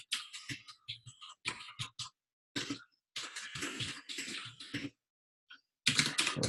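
Rapid bursts of computer keyboard typing, close and clear, come in uneven clusters broken by short pauses, with no talk.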